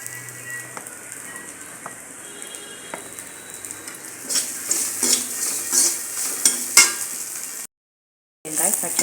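Onion and green chili sautéing in a pan for a raw jackfruit stir-fry, a soft steady sizzle with occasional utensil stirs and scrapes growing louder and busier midway, briefly cut off near the end.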